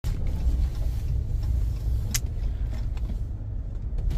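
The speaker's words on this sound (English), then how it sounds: "Truck's here." A truck arrives at a corn field during corn shelling, its engine a steady low rumble that runs throughout, fairly close and unbroken, with no talking.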